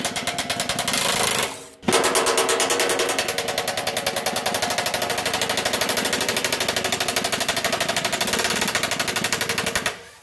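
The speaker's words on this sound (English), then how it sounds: "You can't really get in there with anything other than a ratchet wrench." A ratchet wrench loosens the 12 mm centre driveshaft nuts on a 2006 Subaru B9 Tribeca, giving a fast, steady run of metallic clicks. The clicking is close and continuous apart from one brief pause early on.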